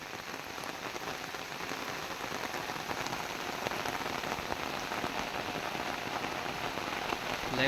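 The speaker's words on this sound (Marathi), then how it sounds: "थंड थंड पाऊस" Steady rain patters down on a surface, a dense, even hiss of drops lasting throughout with no voices.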